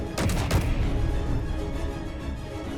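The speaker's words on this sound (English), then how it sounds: "So that is the base shooting." Base turrets firing in the Space Engineers game, a dense burst of rapid shots near the start that settles into a sustained loud rumble of continuing fire.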